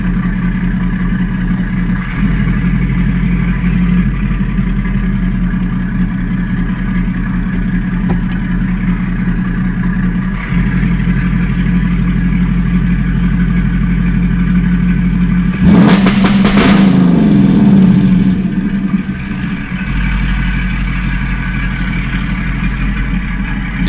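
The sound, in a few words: car engine revved to 2,500 RPM limiter, clutch in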